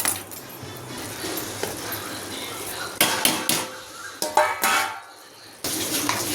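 A spoon stirring biryani masala with chicken masala, pepper, garam masala and turmeric in a metal pot, with clattering scrapes and knocks against the pot, louder in a few sharp bursts.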